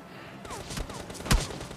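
Gunfire in PUBG Mobile Lite finishing off a knocked-down bot: a short, loud shot burst stands out over faint game ambience, with a softer report just before it.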